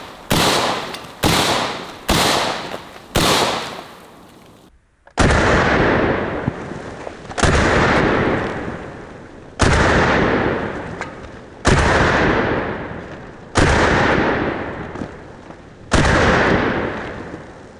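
Rifle shots from a Russian SKS fired at pop cans: four quick, sharp cracks close together, a short pause, then seven more loud reports spaced a few seconds apart, each followed by a long decaying echo.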